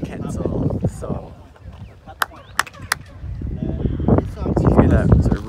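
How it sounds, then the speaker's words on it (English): Three sharp hand claps ring out with a bright chirping echo resembling a quetzal bird's call, heard over a murmuring crowd and steady wind noise. "Alan's gonna give you the Quetzal song."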